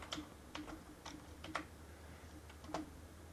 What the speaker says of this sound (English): I'm going to type in i.e network drive.